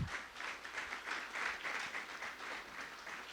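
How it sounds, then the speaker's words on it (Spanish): An audience applauds a guest, Gustavo Gil, at a university talk on accounting and finance, a steady, even wash of many hands clapping that stays consistent throughout, without a break. "Quien yo le pido un fuerte aplauso"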